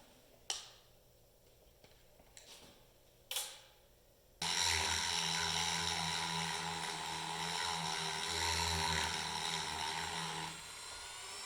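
A rotary tool with a larger-diameter bit grinds inside a Polaris 800 triple snowmobile engine cylinder held in a vise. A steady high whine starts about a third of the way in after a few taps and runs loud and close.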